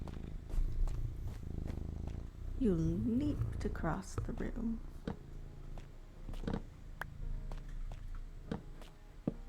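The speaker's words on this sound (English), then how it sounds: "And you're purring so loudly." A cat purrs loudly close by while moving around a desk and stepping on a keyboard, a steady low rumble running beneath a person talking warmly to it, with scattered clicks and taps throughout.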